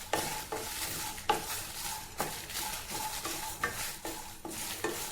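Dried red chillies sizzle in a pan while a utensil stirs them in a steady rhythm of scraping strokes, roughly one every half second over the frying hiss, close and fairly quiet.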